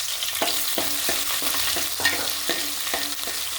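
Garlic, ginger and green chilies fry in hot oil after mustard seeds have popped, with a constant close sizzle, while a spoon scrapes the pan in regular strokes about twice a second.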